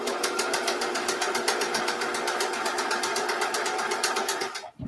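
Home sewing machine stitching a seam at size 3 stitch length, a steady fast whirring chatter of needle strokes running loud and close for nearly five seconds before stopping abruptly.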